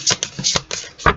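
Several quick papery card shuffles and slides as a single tarot card is drawn from the deck, close and crisp in a series of short bursts.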